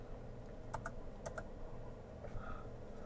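Two crisp key presses on a computer keyboard, close and distinct, followed by a few softer clicks against a quiet room hum.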